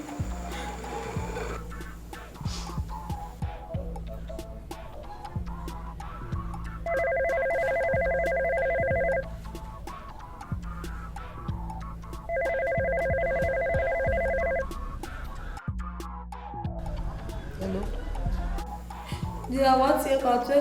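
A telephone rings in two separate bursts of a bright repeating electronic ringtone, with voices talking in the background throughout.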